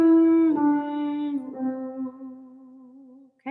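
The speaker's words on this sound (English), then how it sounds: "I'm going to take a breath in, and I'm going to do a hum, and I'm going to end on an ooh." A single voice sings a steady sustained hum in a vocal exercise, holding one pitch clearly and close, then gradually softening as it shifts toward an open ooh before fading out.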